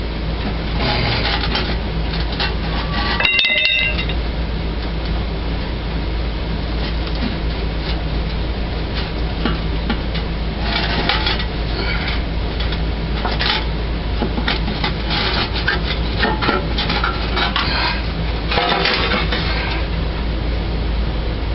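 Ongoing scraping, rubbing and clunking as an oil pan is worked off a Ford 400 engine in a 1978 Continental Mark V, a steady low hum beneath irregular metallic knocks and thuds, close and continuous.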